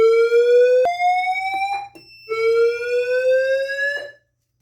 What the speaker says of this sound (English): A fire emergency has been reported in the building. Please leave the building by the nearest exit.